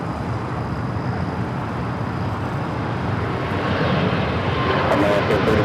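An airliner's jet engines roar steadily as it departs Los Angeles International Airport, a broad loud rumble that swells slightly toward the end, heard from outside.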